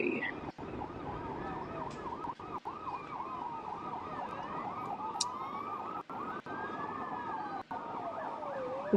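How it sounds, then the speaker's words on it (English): Multiple wailing emergency sirens rise and fall continuously at a distance near a concert hall shooting in Moscow, overlapping each other with faint traffic rumble beneath. "We can hear a lot of sirens coming from that area."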